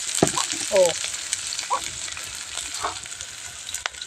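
Curry leaves, green chillies and chopped onion fry in a pan, giving a continuous sizzle broken by a few sharp spatters and scraping strokes, with faint background voice-like sounds.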